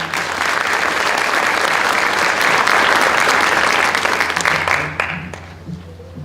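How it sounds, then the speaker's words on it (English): An audience at an awards evening applauds a scholarship recipient, sustained loud clapping from a large crowd that fades out near the end as a voice begins. "let's give her a round of applause"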